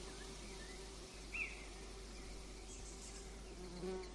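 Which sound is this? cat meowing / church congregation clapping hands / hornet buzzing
hornet buzzing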